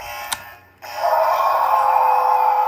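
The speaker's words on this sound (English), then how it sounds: "But you definitely get an alarm sound." A Jurassic World Mosasaurus toy boat from Mattel sounds a steady electronic alarm tone that starts abruptly after a brief click and gap, then holds loud and continuous to the end with no talking.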